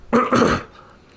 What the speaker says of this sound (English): I feel like I've had this cough like 5 days